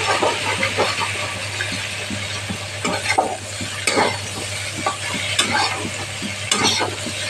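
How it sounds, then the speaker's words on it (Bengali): Spice masala fries in a pan for a potato and prawn curry while a utensil stirs and scrapes through it, a loud close sizzle broken by regular scraping strokes. "এটা ভালো করে মিক্স করে নিচ্ছি আমি।"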